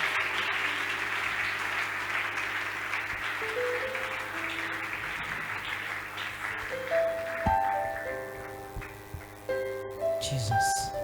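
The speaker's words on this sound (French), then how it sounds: "nous pouvons l'accompagner avec des acclamations et des cris de joie" A congregation at a large church convention applauds and cheers for the preacher, sustained clapping that gradually thins as sustained musical tones rise underneath, with a few shouts near the end.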